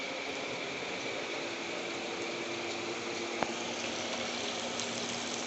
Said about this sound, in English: now I am frying the fish